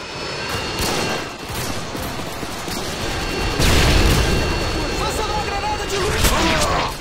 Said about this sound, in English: Someone shot me from behind.